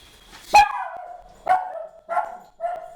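A dog barks four times close by, sharp yelps spaced about a second apart, with quiet between them.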